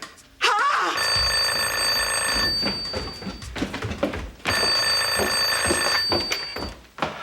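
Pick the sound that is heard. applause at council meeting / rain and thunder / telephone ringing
telephone ringing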